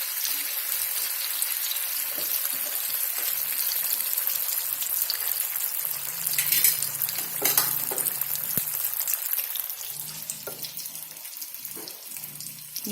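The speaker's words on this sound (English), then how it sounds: "And now add this to the hot oil." Vermicelli-coated potato cutlets frying in hot oil, a continuous close, hissing sizzle that swells slightly as food is added, with some faint clinks.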